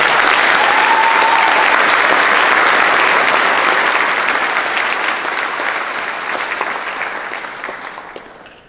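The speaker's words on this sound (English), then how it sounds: "So please give them some applause as well." Audience at a high school Veterans Day assembly applauding, a dense sustained clapping from a large crowd that holds steady then gradually thins and fades toward the end.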